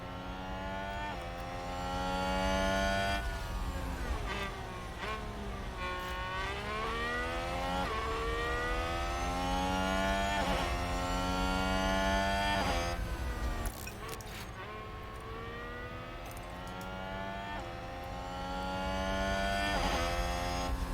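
Formula 1 race cars in the racing management game F1 Manager 2022, high-pitched engines whining continuously as several cars pass, with pitch rising and falling through overtakes and gear changes.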